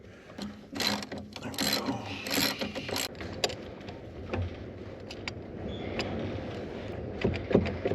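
A ratchet works on carburetor nuts of a 1965 Chevrolet Corvair engine, producing bursts of quick clicking strokes up close, with scattered metallic taps and clunks between them.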